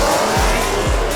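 A race car launches hard down a drag strip, engine screaming loud and close with rapid gear changes and tire squeal, a continuous roaring blast with no talk.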